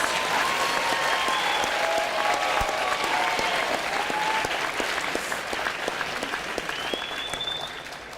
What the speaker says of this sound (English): can we give a round of applause for each of the students on stage who beat the statistics?